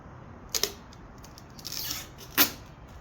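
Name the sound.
peeling adhesive backing off a car badge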